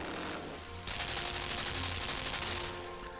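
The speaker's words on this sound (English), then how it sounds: "It's a machine gun." Machine gun firing in the video game Limbo, a steady, loud rapid-fire rattle that swells after the first second and holds continuously before easing at the end.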